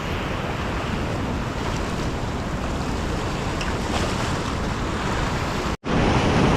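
Strong sea waves surging and crashing continuously at a fishing spot, with heavy wind rumble on the microphone, loud and steady for several seconds before a brief dropout, then resuming.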